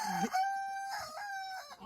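A rooster on a home poultry farm crows once in a long, drawn-out call, close and clear, with no talking.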